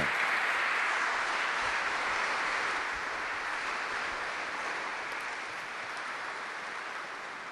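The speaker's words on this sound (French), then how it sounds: "l'applaudissement des pères était l'expression, c'était pas seulement de la courtoisie" A large crowd of church fathers in Rome gives sustained applause after vespers, a steady dense patter of clapping that slowly tapers off.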